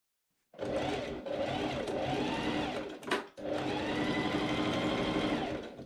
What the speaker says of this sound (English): I machine sew boning channels into the back.